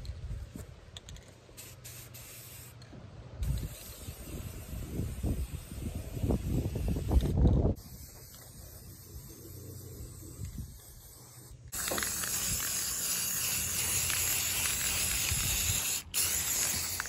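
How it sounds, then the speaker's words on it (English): Bursts of aerosol spray paint hiss on and off, close by, painting a homemade biodigester, with a rattling can shaken between sprays and a long steady spray near the end. "So we're just going to spray paint it"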